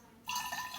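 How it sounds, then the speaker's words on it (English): Water poured into a drinking bottle during a refill, starting after a quiet moment as a bright, gurgling stream that rises in pitch, close and fairly soft, with no talking. "He was just refilling his bottle of water."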